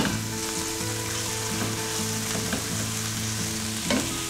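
Capers fry in olive oil in a pan with a steady, close sizzle, dotted with small pops and occasional stirring clatter throughout.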